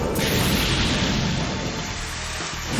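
A Water Style Liquid Bullets jutsu in the Naruto X Boruto Storm Connections video game, used in a boss battle against a toad, makes a loud continuous crashing surge that slowly thins out over nearly three seconds.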